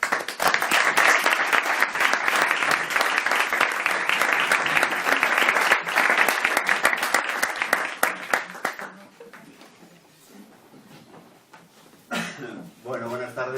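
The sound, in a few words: audience applause for the speaker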